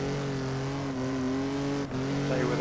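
A race car engine drones loud and close with a steady harmonic whine, dipping briefly as it downshifts to third gear, then pulling on continuously.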